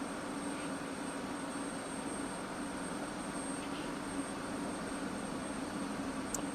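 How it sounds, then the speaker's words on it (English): F-16 Viper jet engine spooling up during start in the DCS World flight simulator, heard from the cockpit with the canopy closed as a steady, loud roar with a constant high whine and no talk. "toggle the start mode, and it's going to get loud, so let's close the canopy"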